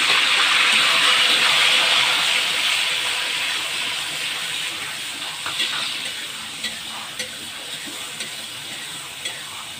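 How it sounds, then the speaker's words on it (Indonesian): Ground chili, shallot, garlic and candlenut paste sizzles and hisses in a pan while being stirred, the frying loud at first and then easing, with a few scraping clinks toward the end. "Kita aduk-aduk sampai baunya harum ya teman-teman."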